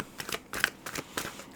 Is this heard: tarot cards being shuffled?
yes